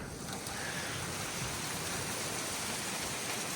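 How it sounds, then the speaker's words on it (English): A light hailstorm coming down outdoors at a tree-stump removal site: a steady, dense hiss of small pellets striking surfaces, constant and fairly loud from start to end with no talk. "it's just hail, a little bit of hail, just, I mean, coming down."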